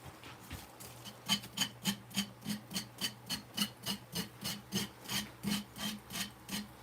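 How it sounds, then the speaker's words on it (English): A hand file rasps across wood in steady, evenly spaced back-and-forth strokes, close up and alone, with about eighteen strokes in an unbroken rhythm. "So I got to do a lot of sanding with a file, or a lot of filing."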